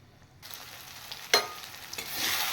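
Coriander, dry chili and turmeric powders fry in hot oil for a handi rohu fish curry, a soft steady sizzle with a couple of sharp spatula clinks against the pot.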